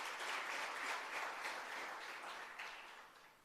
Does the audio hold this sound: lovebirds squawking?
no